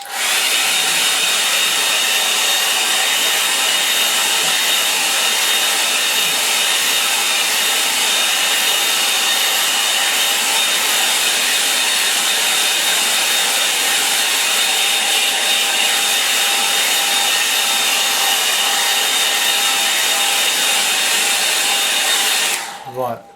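A hair dryer blows continuously and loudly to dry a watercolour painting, a steady close whoosh with motor whine that runs unbroken for over twenty seconds before switching off at the end.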